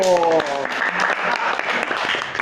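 A short burst of hand clapping rings out, brisk and close, mixed with voices and a brief sung or spoken tone at the start.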